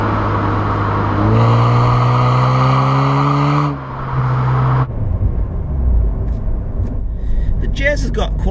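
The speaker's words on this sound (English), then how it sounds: "Part of the specification with this car is its Mugen titanium sports silencer." A Honda Jazz RS Sport Limited fitted with a Mugen titanium sports silencer revs up hard, its exhaust note rising steadily in pitch, then drops back and idles before moving off, with someone talking over it.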